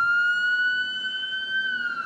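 An ambulance siren from Tuscaloosa emergency responders sounds as a steady, piercing high tone with a slight wavering pitch, loud and close, continuing alone for about two seconds.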